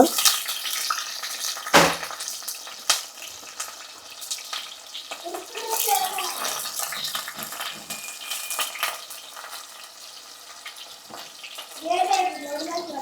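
Two cut green chillies frying and being stirred in an open pan for fish curry: a soft, steady crackling sizzle with scattered scrapes and clinks of stirring, plus a sharp knock early on.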